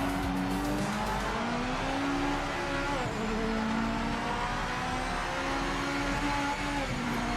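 Race car engine in the racing game Project Motor Racing at the Daytona road course, a continuous droning engine note that rises and dips with gear changes, mixed with tire noise, loud and unbroken with no talk.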